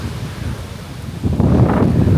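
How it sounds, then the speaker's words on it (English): Strong wind gusts buffet the microphone in Boracay in a loud, rumbling rush that swells halfway through, with no speech. "it's getting so windy, as you can see"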